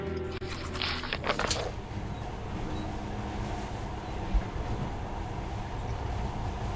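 Monorail train running in the video game Metro: Last Light, a steady mechanical rumble with a brief bright clattering burst near the start, then continuous rolling drone.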